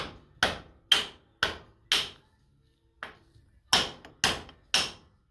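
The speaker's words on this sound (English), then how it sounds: "I tap those posts down on a vise" Sharp hammer taps driving the posts of a Stanadyne Roosamaster DB injection pump from a John Deere 4320 down against a vise, eight crisp metallic strikes in uneven rhythm with a brief pause midway, close and loud.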